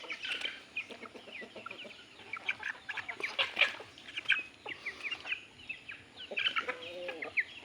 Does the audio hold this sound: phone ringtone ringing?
no